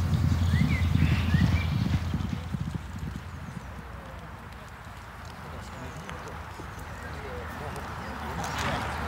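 Racehorse hooves during gallop training at Chantilly, a rapid drumming of hoofbeats fading into the distance under a narrator's voice and an ambient outdoor wash.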